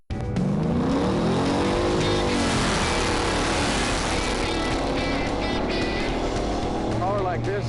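A car fitted with a GM Performance Parts crate engine revs hard and loud throughout, its rising and falling engine pitch sweeping upward at the end, with a voice talking over it.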